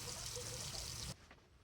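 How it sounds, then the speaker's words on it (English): Water pouring and trickling from an opened faucet as a shower line is drained, a steady close rush that cuts off abruptly after about a second, leaving faint drips. "we want to open up a faucet to allow the water to drain from the line"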